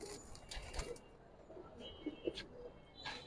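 Pigeons, Giribaz silver and other fancy breeds kept for sale, coo softly in a few low, rounded bursts, faint and close with quiet gaps between calls and light rustling around them.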